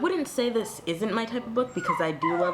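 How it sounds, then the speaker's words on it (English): A dog whimpers and yips in high, wavering whines close by, partly under a person talking. "That is my dog."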